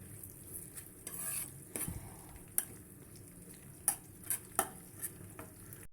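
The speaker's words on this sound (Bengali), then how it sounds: "লাল করে ভেজে নেওয়া পর্যন্ত পেঁয়াজটাকে ভেজে নেব।" Onions fry quietly in a pan for a country chicken curry while a utensil stirs them. Faint sizzling sits under scattered light clicks and scrapes against the pan.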